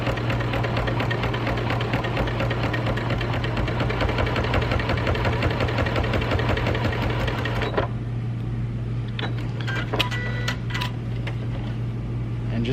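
An Elna Elnita EF72 / Janome 6650 sewing machine stitches through 16 layers of denim, running steadily and loudly up close, then stopping, with a few light clicks and handling sounds afterward.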